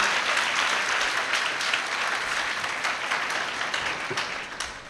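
A church congregation applauds together in loud, steady, dense clapping at a Holy Trinity Sunday service, tapering slightly toward the end with no voices over it.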